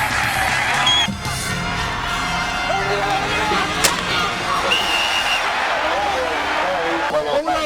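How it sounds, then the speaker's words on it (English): A football crowd at a high school game roars and cheers wildly, a dense sustained wall of shouting and whoops with some speech mixed in throughout. "And listen to the crowd go wild behind their bull."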